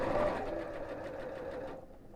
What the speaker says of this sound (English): So again, just sewing all the way around the edge.